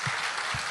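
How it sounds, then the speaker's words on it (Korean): An audience applauds briefly at a 2012 anniversary ceremony and dinner, producing a steady wash of clapping that sounds close and full. "여러분 큰 박수 부탁드리겠습니다"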